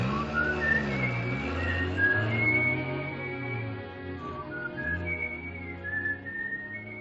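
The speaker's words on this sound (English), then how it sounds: "Is it all right now if I whistle together?" A person whistles a lilting tune in a 1940s domestic scene, the melody rising and falling in clear phrases over roughly seven seconds alongside a steady low hum.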